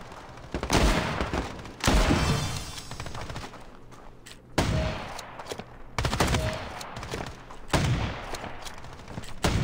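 Rapid gunfire from the mobile shooter Standoff 2 during a gun game match, loud bursts and volleys of shots in clusters across the clip, with sharp repeated reports and no voices over them.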